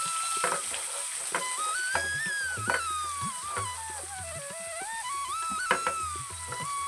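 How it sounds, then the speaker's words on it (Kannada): Asafoetida and onion frying in hot oil, a steady sizzle with crackling pops and occasional stirring clatter, close and continuous throughout with no talk. "ಸ್ವಲ್ಪ ಇಂಗು, ಈರುಳ್ಳಿನ ಸೇರಿಸ್ಕೊತಾ ಇದ್ದೀನಿ."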